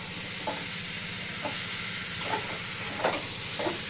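Potatoes stir-fried with spices in a pan for a light potato curry, a steady close sizzle with a few scraping stirs of a spatula at intervals.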